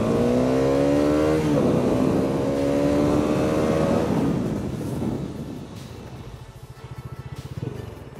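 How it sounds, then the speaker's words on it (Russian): A Bajaj Dominar 400 motorcycle brakes hard from 100 km/h on wet asphalt, its engine note falling in steady downshifting steps. The loud drone fades into a low, uneven idle as the bike comes to a stop. "Вот экстренное торможение со 100 км в час."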